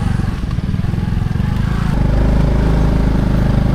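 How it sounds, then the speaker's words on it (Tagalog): A motorcycle rides in first gear on light throttle along a mountain road, its engine a close, loud, steady rhythmic putter that firms up and grows slightly louder partway through. "Primera lang tayo. Tapos kunting piga lang. Hindi natin kinagalit maigi yung makina"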